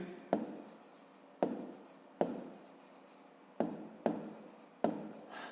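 Pen strokes scratch across paper while a math exercise is worked out, six distinct writing bursts each opening with a sharp tap of the tip and trailing off in a soft rasp, close and quiet with no talking.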